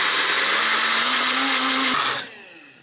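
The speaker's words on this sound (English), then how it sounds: "pureeing them in the food processor" A food processor whirs loudly, pureeing hot sautéed onions and garlic for chicken tortilla soup, a steady high motor roar that cuts off abruptly and winds down quickly.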